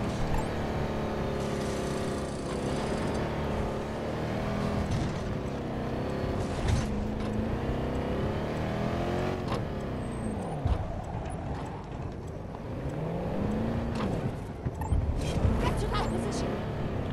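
A vehicle in the shooter game Battlefield 2042 drives along, its engine droning and shifting pitch as it speeds up and slows, steady and close with other game noise mixed in.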